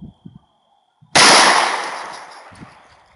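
A single sharp, loud pistol shot from a Springfield XD40SC firing a Zombie Max round, cutting in after a moment of quiet and a few low thumps, then ringing out in a long decaying echo.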